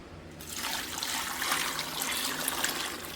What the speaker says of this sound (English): So then I'm going to add some water.